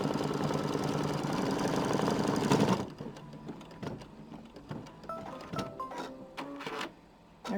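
Embroidery machine stitching down a raw-edge appliqué of white embroidery leather, a dense steady whirr for about three seconds, then lighter irregular clicking and thumping stitches with mechanical rattles.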